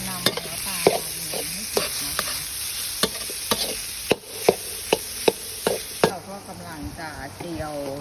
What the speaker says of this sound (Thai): เครื่องลาบ นะคะเราก็เริ่มผัด